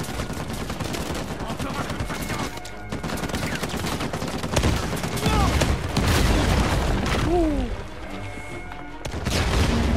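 Sustained turret gunfire and booming explosions from Uncharted 4: A Thief's End roll through a chaotic firefight, with dense rattling bursts, brief lulls and heavy impacts, while someone talks intermittently over the game audio.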